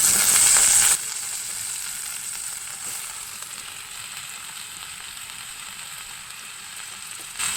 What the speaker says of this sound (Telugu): వేగిన తర్వాత ఉడికినటువంటి మునగాకును వేసేసుకోవాలి.